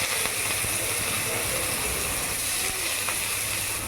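Chopped onions drop into hot oil tempered with black cumin seeds while cooking potol bharta, giving a steady, dense sizzling hiss that stays loud and even throughout with no voices.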